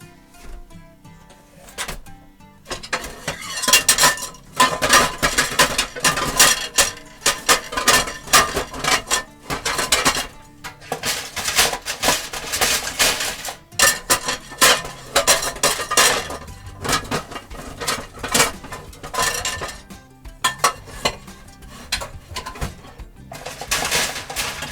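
A skillet and pots handled while making a spaghetti meat sauce, with loud clattering and clanking bursts that run almost continuously, close up, with no speech.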